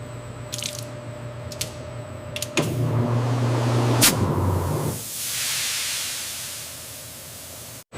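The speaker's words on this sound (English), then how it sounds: "Steam cooking chambers gently cook tuna evenly while preserving texture and flavor." Steam cooking chambers cooking tuna in a canned-tuna processing plant give a steady hiss of steam over machinery hum, with a few sharp clanks and a low droning tone, then a broad rushing hiss that fades near the end.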